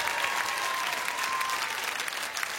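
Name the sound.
audience applause on a French TV show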